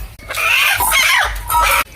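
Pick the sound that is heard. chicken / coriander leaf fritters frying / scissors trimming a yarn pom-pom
chicken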